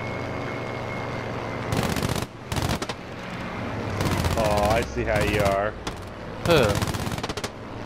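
Bursts of gunfire in Battlefield V, rapid automatic fire in several sharp volleys interleaved with aircraft engine whines during a dogfight, loud and close, with a brief voice interjection.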